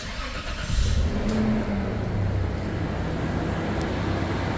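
A car engine idles, then picks up and accelerates on a road test, a steady, fairly loud hum with one brief rise near the start and no talking.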